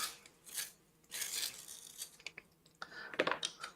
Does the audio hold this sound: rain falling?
no